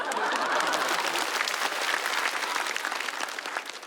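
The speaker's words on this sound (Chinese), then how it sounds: "可以给我鼓下掌。" A live stand-up comedy audience bursts into loud, sustained applause, dense clapping that tapers off slightly toward the end.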